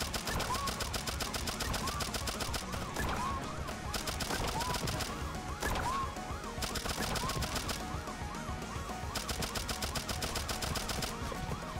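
Rapid, continuous gunfire in the video game Turnip Boy Robs A Bank, dense bursts of automatic shots running throughout, loud and up close, with chirpy game effects layered in.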